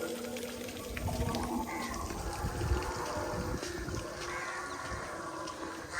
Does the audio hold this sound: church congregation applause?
no